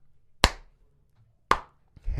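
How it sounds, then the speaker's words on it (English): Two sharp, loud hand claps about a second apart, close and dry against near silence, used to sync video and audio at the start of a podcast recording, with a faint noise at the end. "I'm leaving that clap in there"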